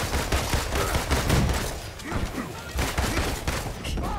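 Gunfire in the Marvel's Avengers video game, rapid bursts of shots and impacts in dense, repeated volleys, loud and close, with a voice talking over parts of it.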